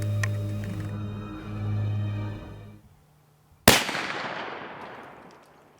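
A single sharp, loud gunshot rings out during a whitetail deer hunt, with a long echoing decay through the open woods after a low, humming lead-in.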